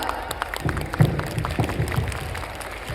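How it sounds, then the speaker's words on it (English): An audience at a school Christmas celebration applauds after a dance performance, a moderate, steady patter of many hands clapping throughout. "Once again, give a huge round of applause."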